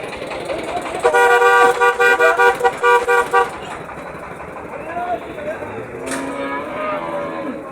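Cattle low at a busy market, with loud harmonic moos in the first few seconds over a crowd murmur and talking voices, and a vehicle horn later.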